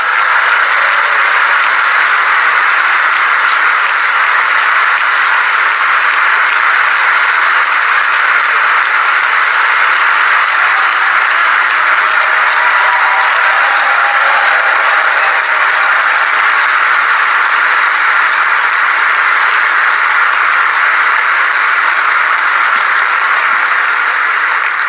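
A large crowd applauds Trump's speech, a steady, dense wash of clapping that holds at the same loud level for the whole stretch with no voices on top.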